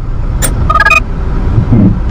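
A car pulls off uphill using a clutch-then-gas method, its engine rumbling steadily and loud with a brief high whine partway through and a rising low growl near the end.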